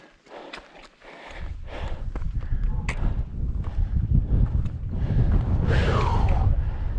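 Wind blowing across a mountain col in the Hautes-Alpes as a low buffeting roar that builds and holds steady, with scattered crunchy steps and knocks near the start.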